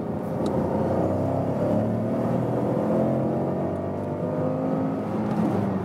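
Ford Puma ST-Line X with a 155 hp turbo petrol engine accelerating from 50 to 90 km/h, a steady, even engine drone building under cabin road noise, heard from inside the car with no speech.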